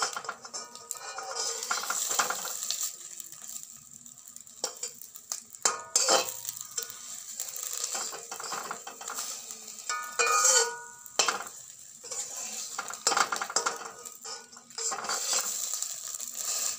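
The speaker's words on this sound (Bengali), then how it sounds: "এই পাশটা একটু ভেজে নেবো।" A breakfast snack fries in a pan with a soft sizzle while utensils scrape and clink against it as it is flipped, the clatter coming in short bursts close by, with no one talking.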